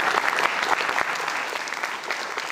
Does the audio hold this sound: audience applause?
yes